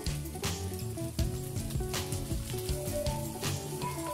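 Thinly sliced potato frying in a pan of hot oil for a Chinese vegetable dish, a steady close sizzle with crackling bursts throughout, no talk.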